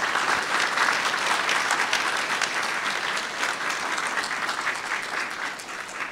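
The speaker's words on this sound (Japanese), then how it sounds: "今一度あの本日受賞されました皆様に大きな拍手をお願いいたします。" Dense, steady applause from an audience honoring award winners at a regional revitalization reference award ceremony, loud and continuous from start to finish.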